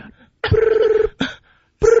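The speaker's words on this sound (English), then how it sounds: "he decided that a phone ring from 1962 would be perfect for this bit" Vintage 1962 telephone bell rings in loud, buzzy bursts: one long ring, a short burst, then another ring starting at the end, close and clear with no talking.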